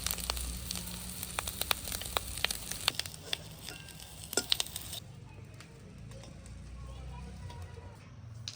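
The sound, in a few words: egg frying in a pan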